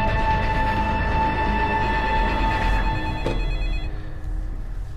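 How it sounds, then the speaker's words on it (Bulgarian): A telephone rings loudly and continuously with a bright electronic tone, the ringing cutting off near the end and leaving a lower background hum, with no speech. "Иво, звъниш ли?"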